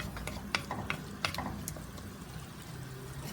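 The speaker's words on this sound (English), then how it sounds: "Just fry until the color will change." Chopped kimchi frying in plenty of oil in a pan, soft sizzling with a few sharp stirring scrapes and clicks near the start, close and moderately quiet.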